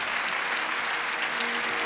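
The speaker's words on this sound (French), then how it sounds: "Je crois qu'on peut l'applaudir très fort" A large hall of delegates at the 2016 national congress of French worker cooperatives applauds loudly and steadily, a dense, even wash of clapping with no break.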